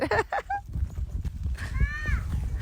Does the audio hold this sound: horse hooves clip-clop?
yes